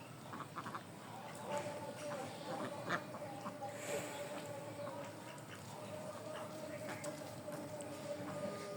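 Khaki Campbell ducks quack on a duck farm, a steady chorus of calls at moderate distance mixed with faint background noise and some low talk.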